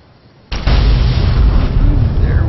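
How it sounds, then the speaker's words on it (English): Two cars blow up in Fallout: New Vegas, giving a sudden heavy blast with a second burst right behind it, then a loud, sustained rumbling roar. "Double explosion."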